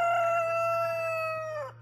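A single loud rooster crow, one long drawn-out call that rises and then trails off at the end.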